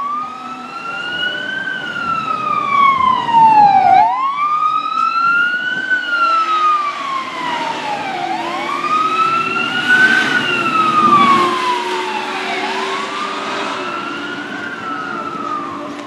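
A loud wailing siren rises and falls repeatedly, sweeping up and down in long cycles over the rumble of traffic.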